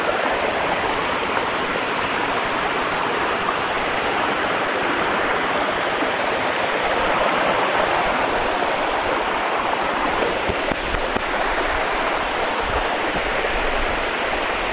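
A waterfall in Russia roars in a loud, unbroken rush of falling water, steady and close for the whole stretch, with no voices over it.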